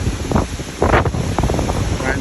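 Strong wind on Mount Dandenong, Victoria, roars and buffets the microphone in heavy, uneven gusts, with a voice partly audible beneath the rushing noise.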